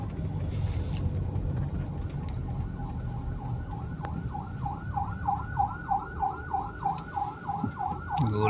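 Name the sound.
ambulance siren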